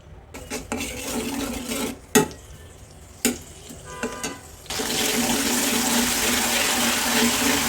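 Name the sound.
chopped prawns frying and being stirred in hot oil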